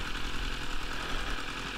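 Steady low rumble of a motorcycle engine idling nearby in a parking area, even and continuous with no talking.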